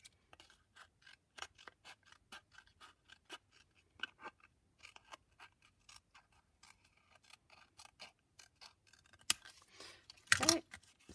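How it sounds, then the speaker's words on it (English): Scissors cut scrap paper for Christmas tags with quiet, close snips in an irregular rhythm, ending in a louder, longer rustling cut. "I'm going to just take it with some scissors just about there"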